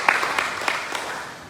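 Congregation applause at a Chinese New Year church service, a brief burst of clapping with a few distinct sharp claps near the start that quickly thins out.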